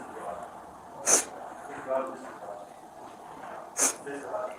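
Two sharp, quick nasal sniffs stand out a few seconds apart, with softer breathy snuffles between them in a quiet room.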